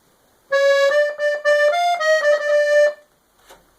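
A 120-bass LMMH Philharmonic accordion with cassotto open plays chords for about two seconds, a mellow, slightly muted reed tone with short rhythmic pulses, close and fairly loud, then a faint tail.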